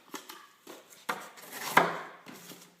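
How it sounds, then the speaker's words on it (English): A CTS-XHP steel knife slices through cardboard with diagonal cuts, producing a series of quiet, close, scraping strokes in an uneven rhythm. "cut cardboard is similar to the way you chop wood, is with diagonal cuts."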